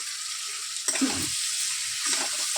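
Cauliflower, potato and duck egg curry sautéing in a pan, a steady hiss of sizzling with a couple of louder stirring scrapes partway through.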